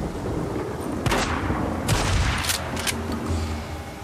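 Gunfire in the video game Days Gone comes as a handful of loud, sharp shots and booming reports with short gaps between them, over a dense, rumbling game soundscape.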